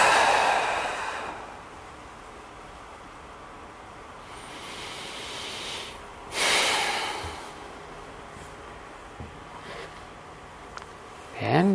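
Deep breathing exercise: a strong inhale and exhale near the microphone, followed by quieter pauses and another sharp breath, close and audible alone.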